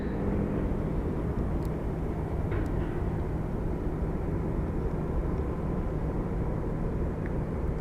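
An airliner on the Orlando flight at Phoenix Sky Harbor airport, a steady low jet rumble with a faint hum that persists unchanged throughout, with no voices and a couple of brief faint ticks.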